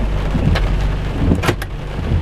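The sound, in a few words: rain and thunder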